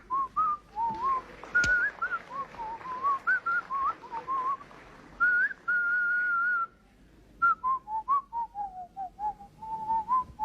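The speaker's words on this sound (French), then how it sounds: "On n'entre pas dans un bureau administratif en sifflotant." A person whistles a meandering tune while walking into an administrative office, clear close whistled phrases with short pauses between them, one longer held note midway, heard alone.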